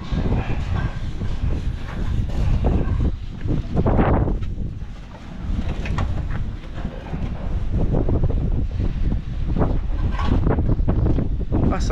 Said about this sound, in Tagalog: Ang hangin dito, nakaka-relax.